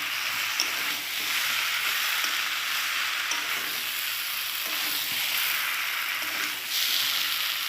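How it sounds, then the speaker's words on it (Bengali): Green jackfruit and prawns sauté in a pan with a steady, close hiss and sizzle, stirred now and then, with no voices over it. "তো দেখো এঁচোড় দিয়ে কষিয়ে নিয়েছি 2 মিনিটের মতন"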